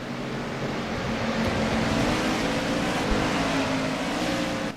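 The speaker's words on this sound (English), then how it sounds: "The audio of the cars now are great" Race car engines roar continuously in a Daytona racing video game, a dense steady drone of many cars at full throttle, loud and unbroken with no voices.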